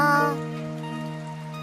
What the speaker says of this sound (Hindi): ये मृग वर्षा नहीं पाचू, ये तो मूसलाधार वर्षा है।